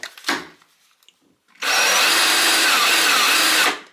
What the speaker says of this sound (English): And then I'm going to countersink that just a little bit.